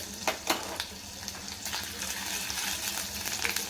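Finely chopped ginger sizzles steadily in about two spoonfuls of hot oil in a preheated pan for chicken soup, a close, continuous frying hiss with a few sharp crackles near the start.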